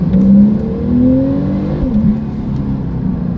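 A Porsche Turbo S engine revving up through second gear toward 4,000 rpm, heard from inside the car as a smooth, loud rising drone with one pitch drop at a shift, steady and close without talk.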